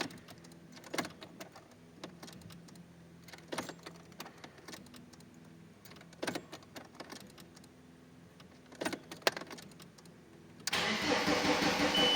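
A car engine with a freshly bled fuel system and its intake manifold pressure sensor unplugged: several scattered clicks and thumps in a quiet workshop, then the engine fires near the end and runs loudly and steadily.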